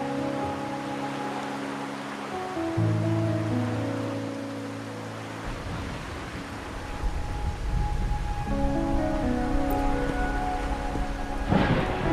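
Steady rain pours in the game Wuthering Waves, with rumbling thunder building and swelling toward the end, under sustained soft musical tones.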